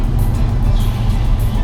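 Audi RS3 rated at 441 bhp pulling hard on boost, a loud, steady low engine roar held close throughout with no break.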